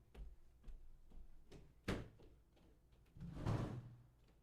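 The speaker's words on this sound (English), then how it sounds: "guy knocking on my door right now." Knocking on a house door: a few muffled, irregular thumps, fairly quiet, with no voices.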